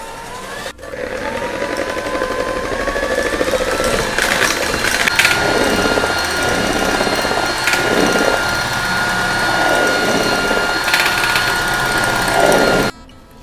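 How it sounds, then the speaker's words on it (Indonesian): An electric hand mixer runs steadily for over twelve seconds, whisking egg whites until stiff for a banana sponge cake, a continuous whirring motor hum with rhythmic swells as the beaters move through the bowl, close and loud, with no talk. "Sambil menunggu bahan-bahan yang sudah kita kocok tadi, kita akan kocok putih telur sampai mengembang."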